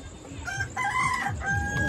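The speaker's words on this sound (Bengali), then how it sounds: "কই গো মুরগি?" Chickens cluck close by while a rooster crows through most of the short stretch, the calls loud and overlapping against a steady background.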